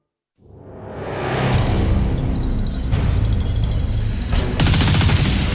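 A loud, sustained burst of machine gun fire from the 1944 Warsaw Uprising rattles continuously after a brief silent start, with sharp cracks layered over a heavy rumble.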